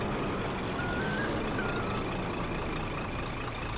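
Truck in the Spin Tires video game sounding a steady reverse-gear beep, a thin repeating tone over a constant engine drone, with no talk.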